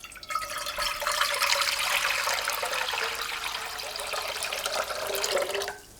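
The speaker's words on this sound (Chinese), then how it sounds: "锅中加入清水" Clean tap water pours steadily into a cooking pot for several seconds, a close, continuous rushing splash that holds even and then cuts off abruptly near the end.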